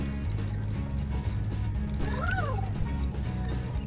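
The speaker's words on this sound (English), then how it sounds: "Cat is sleeping here." A cat in The Baby In Yellow video game gives a single short meow midway, heard over a steady loud game soundtrack.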